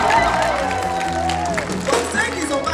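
Audience at a live slam performance at the Soko Festival applauding, with steady clapping and some cheering filling the clip while voices carry over the crowd.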